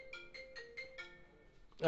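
A new iPhone rings with a bright repeating melodic ringtone, five quick chiming bursts in steady rhythm, fairly clear and close, before a louder jumble of sound cuts in at the end.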